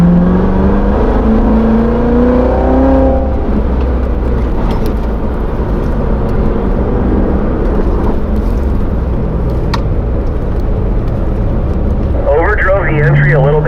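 Race car on a closed road course at Spring Mountain Motorsports, accelerating out of a corner during a performance driving school session; a loud, steady engine roar with rising harmonic tones, and an instructor's voice speaks over it.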